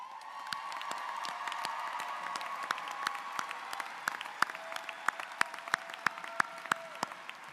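Sustained audience applause fills a college commencement ceremony for graduates, dense clapping throughout with sharper individual claps standing out toward the end and a faint whoop or cheer mixed in.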